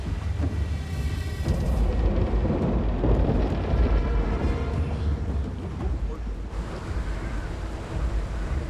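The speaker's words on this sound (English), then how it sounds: "Where did this rain come from?" In the video game Blade and Soul, a rainstorm at sea brings heavy, steady rain, rumbling thunder and wind with surging waves. The mix is loud and dense throughout, with a voice speaking under it.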